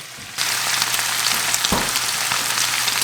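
Crab meat and a big spoonful of garlic frying in butter, a steady close sizzle that starts abruptly and holds loud and even, with a brief stir or scrape partway through.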